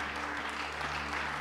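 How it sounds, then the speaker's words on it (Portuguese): A church congregation claps together in sustained, dense applause, steady and moderately loud throughout, with faint voices mixed beneath the clapping. "Alguém aplauda Jesus."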